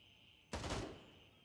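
A single sharp burst of gunfire in a video game erupts out of near silence, then rings off with a short metallic tail like shots hitting tin barrels.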